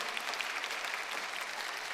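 Steady, full congregation applause in a church after an Easter service performance, continuous dense clapping at even loudness throughout.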